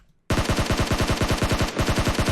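Sustained automatic gunfire in PUBG Mobile on the snowy Vikendi map, a loud, rapid, evenly spaced burst of shots that starts abruptly after a brief near-silence and rattles on for about two seconds with a tiny break.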